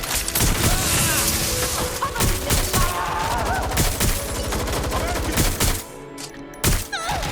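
Dense, continuous gunfire rattles through a Watch Dogs: Legion firefight, loud and close with rapid overlapping shots and booms that ease off briefly near the end.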